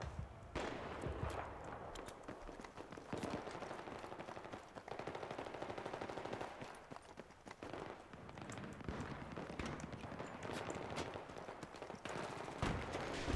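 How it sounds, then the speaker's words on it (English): Gunfire aimed at a building in the video game Battlefield: a long stretch of rapid automatic fire, dense bursts of cracking shots that continue almost without pause and sound fairly faint overall. "If I just shoot the building."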